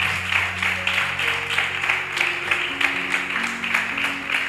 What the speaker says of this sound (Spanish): Dale un fuerte aplauso a Dios, si puedes, si quieres, uno fuerte